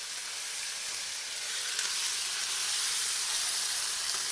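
Tomato, onion, green chillies and tamarind frying together in a pan, a continuous bright sizzling hiss that swells slightly louder as it goes, with no voices.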